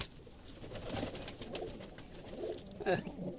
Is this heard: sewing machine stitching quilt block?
no